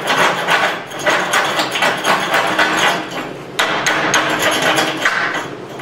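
Chipping hammer strikes rapidly and repeatedly on Hobart stick welds to knock off slag, loud dense metallic tapping close up on a welding table, with one brief pause midway.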